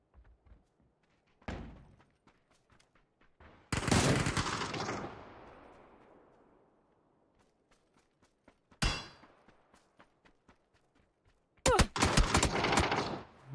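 Shotgun blasts in a video game: a few sharp, separated booming shots, one with a long trailing rumble, spaced across quiet gaps, with faint background sounds in between.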